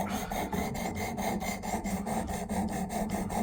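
A Benchmade Claymore knife blade sharpened on a Work Sharp Elite Precision Adjust, a rapid rhythmic rasping of quick back-and-forth strokes, close and steady throughout with no voices.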